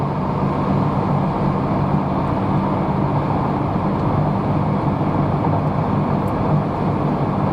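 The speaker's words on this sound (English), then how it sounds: "I've raised the top so you can see how quiet the interior is at highway speed." Inside a BMW 435i convertible at 120 km/h with the top raised, a steady low road and wind rumble fills the cabin, smooth and unchanging with no talk.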